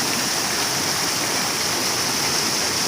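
A farm stream of water flowing strongly, a loud steady broadband rush with no breaks, no voices.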